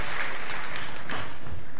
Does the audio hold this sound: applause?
yes